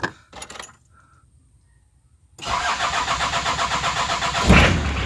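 Toyota TownAce van engine cranks briefly after a few faint clicks and a pause, then catches and settles into a steady, loud idle with a rhythmic pulse, close by and with no talking.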